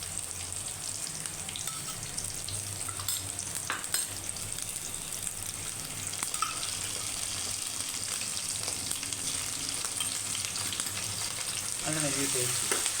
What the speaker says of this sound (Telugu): అల్లం వెల్లుల్లి పేస్ట్ అది ఇది బాగా వేగిన తర్వాత